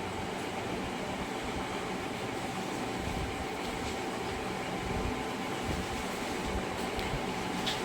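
Chopped onion fries in hot oil with whole cumin seeds while making a ridge gourd and egg curry. A soft, steady sizzle hisses continuously and fairly faintly throughout.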